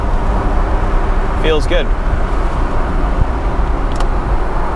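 A 1992 BMW 325i convertible pulling steadily in third gear, engine drone and road noise loud and continuous throughout, with a short spoken remark partway through.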